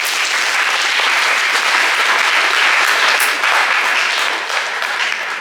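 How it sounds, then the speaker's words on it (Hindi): Wedding guests applaud a newlywed couple at a Christian wedding ceremony, loud, sustained crowd clapping that stays dense and even, easing slightly near the end. "इनके लिए जोर से ताली बजा देंगे।"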